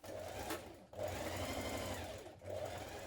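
A sewing machine stitches a trouser leg seam from the crotch curve down the leg, a steady close whir running almost continuously with two brief pauses between bursts.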